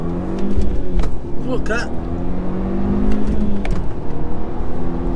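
A new car accelerates hard from a standstill, its engine note rising and roaring steadily for several seconds inside the cabin, with excited voices talking over it.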